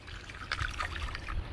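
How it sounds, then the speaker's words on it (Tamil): Tamarind water trickles and pours into a dish during Tamarind water cooking, a soft, steady liquid splashing at close range for about a second and a half with no talk over it. "புளி தண்ணி ஊற்றிடுவோம்."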